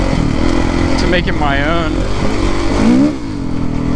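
A Kawasaki KX450F dirt bike engine runs steadily and loud throughout, its idle rumble continuous beneath a man's speech, with a brief rise in pitch near the end before settling back.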